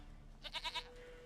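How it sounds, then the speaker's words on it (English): A goat bleats in a video game, three short wavering bleats in quick succession, fairly clear over a quiet background hum. "Goat of mine, dearest,"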